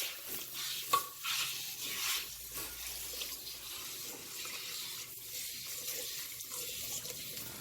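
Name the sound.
rinsing a hair patch with water in a bowl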